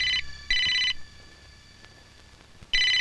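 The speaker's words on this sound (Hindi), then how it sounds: "चला घंटी बजी है।" An old-style telephone bell rings loudly and close in bursts, with one short and one longer ring, a pause, then another ring starting, in a quiet room.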